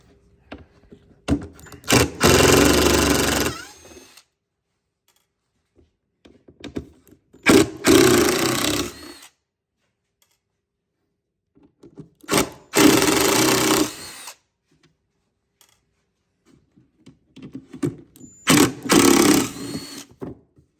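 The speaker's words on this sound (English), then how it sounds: "we're gonna go ahead over to the router table, and we're gonna open up that hole" Router table cutting open the hole in a 10-inch mid bass/subwoofer ring, heard as four loud, separate bursts of a few seconds each, with quiet gaps between them.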